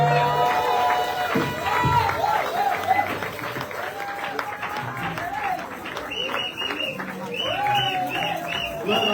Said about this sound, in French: Applaudissez fortement pour la gloire de Dieu.